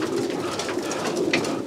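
Racing pigeons coo softly and continuously in a loft, a low murmuring chorus of several birds with no talking.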